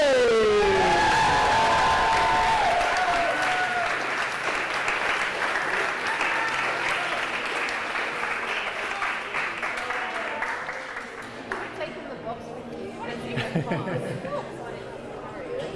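A crowd at a masters competition final cheers and applauds the female masters winner, with dense sustained clapping and shouts that gradually thin out, while an announcer's voice and chatter carry over it.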